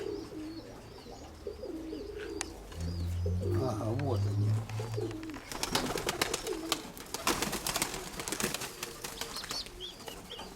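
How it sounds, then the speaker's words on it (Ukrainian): Pigeon cooing from a grey-mottled young bird at a pigeon loft, low repeated coos in the middle of the clip with some wing flapping and rustling, while people talk nearby. "Сиворябенький голубенок."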